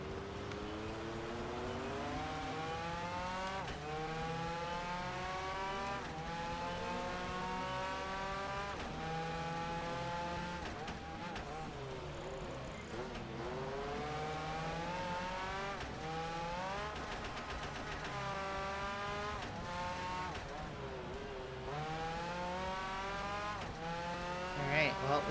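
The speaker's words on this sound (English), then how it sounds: "That's an open top race car." An open-top race car in Project Gotham Racing 4 races hard, its engine repeatedly climbing through the gears with rising revs and downshifts, tyres squealing briefly, a steady near roar throughout with quiet talk underneath.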